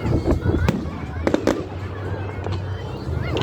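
Fireworks at a public display: several sharp, booming bursts crack out one after another over a steady background of crowd noise and nearby chatter.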